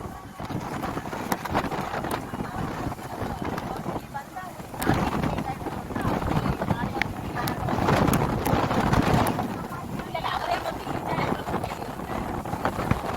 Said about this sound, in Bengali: প্রচণ্ড হাওয়া, প্রচণ্ড হাওয়া।